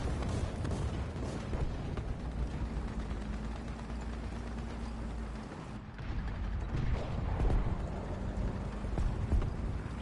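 Gunfire and heavy rumbling from War Thunder roll on continuously as dense, booming battle noise with overlapping blasts and mechanical clatter.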